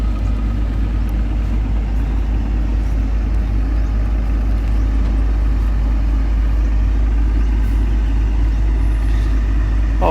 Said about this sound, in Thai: เสียงเครื่องยนต์ค่อนข้างที่จะกระหึ่ม